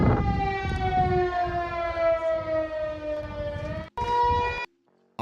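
Tsunami warning sirens wail in Old Harbor, Alaska after a magnitude 7.3 earthquake, a loud sustained harmonic tone that slowly falls in pitch, briefly cuts out, returns, then stops.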